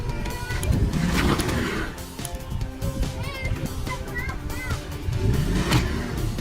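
A truck engine revs and strains while yanking a tree stump out with a cable, rising and falling in rough surges, with excited voices and shouts mixed in close by.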